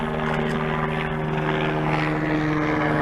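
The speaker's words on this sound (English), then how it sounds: "there goes a helicopter" A helicopter passes overhead with a steady, droning rotor and engine hum that stays loud and even throughout, with no talking.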